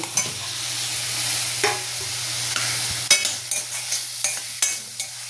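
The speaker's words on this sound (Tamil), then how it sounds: "இப்போ பாருங்கள் நல்லா வதங்கிட்டுருக்கு" Ginger, garlic, onion, tomato and green chilli sauté in a pan, giving a steady close sizzle broken by spatula scrapes and clicks, with a low constant hum underneath.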